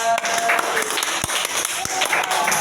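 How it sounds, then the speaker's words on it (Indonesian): Primary school pupils in an Islamic religious education lesson clap together in a classroom, a dense, steady patter of many hands filling the whole moment at close range, with a couple of sharper individual claps standing out. "Oke, tepuk tangan."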